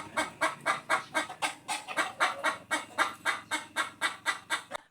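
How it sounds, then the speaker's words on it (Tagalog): Backyard broody hens clucking and cackling around their nest in a steady, rapid rhythm, repeated calls close by with no talking. "maiingay ang aming mga inahin, putakan ng putakan at naglalapitan lahat sa pugaran"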